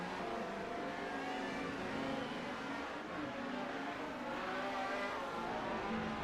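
A Peugeot touring car in the 1996 British Touring Car Championship races through Druids bend at Brands Hatch, its engine a loud, continuous racing roar that rises and falls as it passes.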